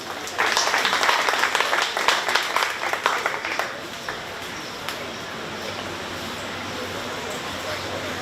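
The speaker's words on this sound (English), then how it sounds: "Let's give them all a round of applause" An audience applauds at a 4H cattle show at a county fair, a dense burst of clapping that fades after a few seconds into a low crowd murmur and general arena ambience.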